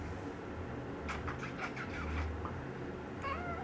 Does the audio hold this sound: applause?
no